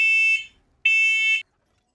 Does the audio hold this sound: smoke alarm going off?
yes